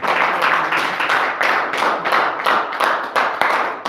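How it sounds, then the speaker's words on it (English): A congregation gives a round of hand clapping for a family, many palms striking in a fairly even, dense rhythm with audible individual claps close by, sustained for several seconds without talk. "Can we give the Marshall family a hand clap?"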